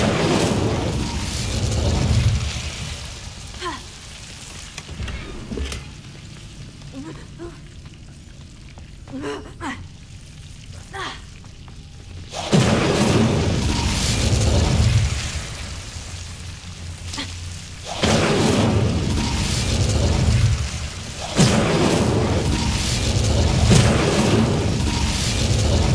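Incendio fire spell cast repeatedly in Hogwarts Legacy: loud roaring whooshing bursts of flame with crackling, separated by quieter stretches with scattered pops.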